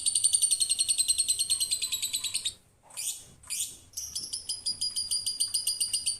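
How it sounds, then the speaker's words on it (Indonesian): A lovebird sings a long run of rapid, high, rhythmic chirping trills, then breaks off with a few short, scratchy calls before resuming the fast, steady trilling, loud and close. "Lovebird"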